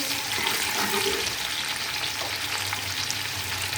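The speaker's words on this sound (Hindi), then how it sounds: "इसके बाद हम प्याज डाल देंगे इसमें।" Onion and a spoonful of garam masala fry in a pan as rice for kofta pulao is prepared, giving a steady, close sizzle with light stirring throughout and no voices.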